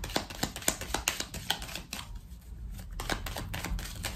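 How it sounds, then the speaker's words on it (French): Tarot cards being handled and laid down during a reading, a quick run of soft flicks and taps up close, then a brief hush and more light card sounds, with no voices. "On va recouvrir quelques cartes."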